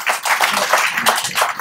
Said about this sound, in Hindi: सिद्धांत जी के लिए जोरदार तालियों से